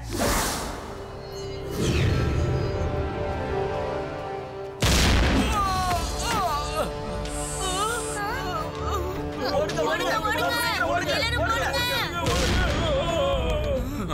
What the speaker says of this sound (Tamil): என்ன வெளியில வெடிக்கிற சத்தம் கேக்குது?